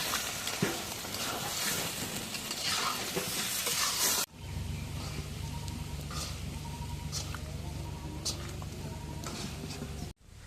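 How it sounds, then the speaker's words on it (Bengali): Fish being stirred in a pan over a clay stove in a rural home kitchen: a steady, close crackling sizzle with scraping stirs that cuts off abruptly, then a quieter sizzle with a low hum and occasional clicks. "মাছটা একটু নাড়া দেবো।"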